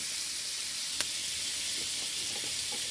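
Butter with a sunflower and extra virgin olive oil blend sizzling in a pan, a steady bright hiss with one sharp tap and light scattered pops.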